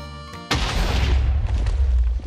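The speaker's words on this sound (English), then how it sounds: "Wow, the whole building is built up by TNT. The explosion will be just huge." A huge TNT blast levels a building in Minecraft, erupting suddenly as a loud, close boom and then rolling into a sustained, dense rumble of crashing debris that lasts to the end.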